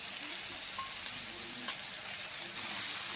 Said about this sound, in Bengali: সব মশলা খুব ভালো করে কষিয়ে নিতে হবে।